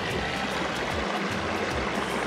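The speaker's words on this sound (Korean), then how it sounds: "얼음 밑으로 물이 쫙 흘러요." Water rushes under thick ice in a stream beside a walking path in Pyeongchang, a steady, dense gurgling flow heard close and continuous with no voices.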